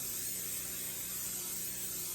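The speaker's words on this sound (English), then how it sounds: "I'm spraying it with some butter spray." A short, continuous hiss from an aerosol can of butter cooking spray, close and steady for about two seconds.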